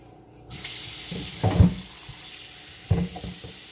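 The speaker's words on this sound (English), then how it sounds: "Always wash your meats." Tap water runs into a kitchen sink while raw pork and beef are rinsed for a Caribbean pepperpot dish; a steady close gush with a couple of louder splashes and clunks, no talking.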